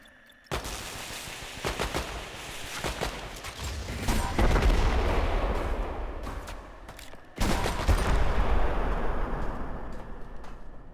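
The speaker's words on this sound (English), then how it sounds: "Love the noise the tank gun makes." A tank's main gun fires repeatedly in the sci-fi shooter ADACA, heavy booming blasts layered with rumbling and explosions, loud and dense, with a brief pause before another burst of fire.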